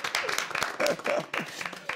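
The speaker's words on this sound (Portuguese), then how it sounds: "uma salva de palmas." A small group at a laughter-themed gathering claps briefly, the applause mixed with talking and laughing voices throughout.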